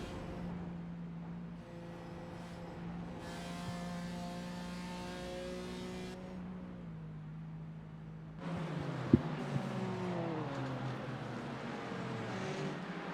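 Race cars in a racing game run at Bathurst Mount Panorama, giving a steady engine drone that changes pitch through gear changes and shifts to a louder, busier mix of cars near the end, with no talk.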